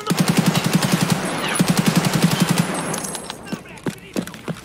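Automatic gunfire from a gun in the Escape From Tarkov shooter game: a fast, steady burst of loud, close shots that breaks off midway into a few sparser single shots.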